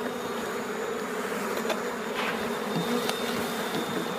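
Honey bees swarm around an opened beehive during beekeeping work, making a dense, continuous buzzing drone that stays steady and close throughout, with no voices.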